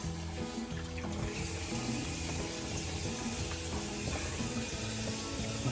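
Water runs steadily from a newly installed bathroom faucet into the sink, a constant close splashing stream with no talk.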